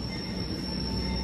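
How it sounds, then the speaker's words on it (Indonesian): A Madiun Jaya train running with modified New Generation executive coaches rolls along the rails with a steady, dense rumble. A sustained high wheel squeal rides over it, with no voices. "Ini pakai kereta eksekutif New Generation versi modifikasi"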